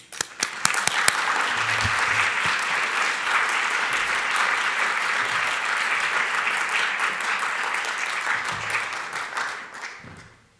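An audience at a university event on the ethics and politics of climate change applauds to welcome speakers to the stage, a dense sustained clapping lasting about ten seconds, with a few sharp individual claps at the start and a fade at the end.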